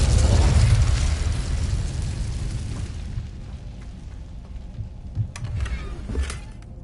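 The Incendio fire spell cast in Hogwarts Legacy on PS5, a deep roaring whoosh of flame that swells loud at the start, then fades into a low rumble with small crackles and pops.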